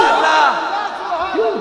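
Large gathering at a religious speech chanting slogans in unison, a loud, sustained mass of voices rising and falling together, close and full throughout.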